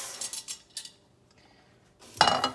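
Fried urad dal scraped and tipped out of a pan, a few light metallic scrapes and taps at first, a short lull, then a louder rattling scrape of the lentils being moved out.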